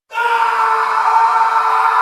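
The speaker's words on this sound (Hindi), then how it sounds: "तभी कक्ष में से एक चीख उभरी।" A long, loud scream rings out from inside a palace chamber in a vampire-king audio drama, a single sustained cry of about two seconds heard alone.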